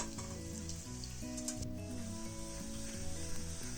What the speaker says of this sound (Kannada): ಎಣ್ಣೆ ತುಂಬ ಬಿಸಿ ಇರೋದ್ರಿಂದ ನೋಡಿಕೊಂಡು ಎಲ್ಲ ಇದನ್ನು ಮೆಣಸಿನ್ಕಾಯಿಗಳನ್ನು ಫ್ರೈ ಮಾಡ್ಕೊಳ್ಳಿ